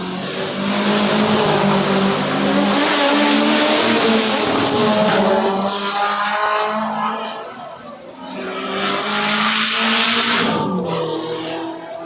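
Race cars at the JRDC Carnival of Speed 2025 roaring down a straightaway, loud sustained engine drone with rising and falling pitch as cars pass, briefly dipping before another surge; an announcer's voice can be heard beneath.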